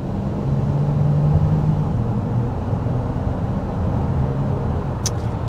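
A 2024 Honda Odyssey minivan's V6 accelerates with a steady, close engine and road drone that holds constant, heard from inside the cabin with no voices.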